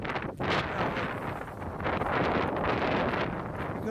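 Cold wind blowing hard outdoors, a loud, continuous buffeting rush against the microphone that swells and dips slightly throughout, with no voices.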